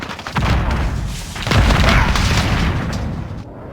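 Heavy artillery strike explosions boom in Modern Warfare 2019, with a first blast followed by a second, bigger rumbling detonation that rolls on loudly before fading.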